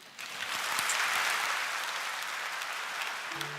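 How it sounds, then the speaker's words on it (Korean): Steady applause from a church congregation during a worship service, a dense, even wash of clapping that holds at full strength for several seconds, with a brief hint of instrumental tone near the end. "박수로 한번."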